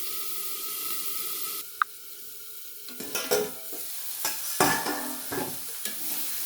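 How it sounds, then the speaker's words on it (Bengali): Brinjal fries in a pan with an even hiss that drops sharply after a single knock, then gives way to intermittent stirring scrapes and sizzling bursts, close and moderately loud with no speech. "একটু ঢেকে দেবো যাতে বেগুনটা খুব সুন্দরভাবে ভাজা হয়ে যায়"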